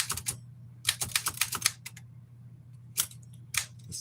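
Manual typewriter keys being struck on a workbench, in short irregular bursts of sharp clacks with pauses between, close and clear over a low steady hum.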